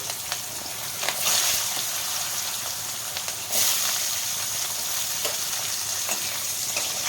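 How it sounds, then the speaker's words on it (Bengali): Potato pieces frying in hot oil in a home kitchen while Bengali rui fish chorchori with winter vegetables is cooked, giving a steady close sizzle with brief louder bursts as the pieces settle. "এবার আমি প্রথমে আলুগুলো তেলের মধ্যে দিয়ে দেব"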